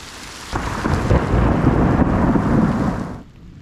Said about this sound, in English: The whole storm is officially across the river here. It's still a little too close with the lightning.